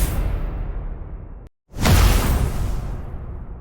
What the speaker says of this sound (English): Magic weapon input.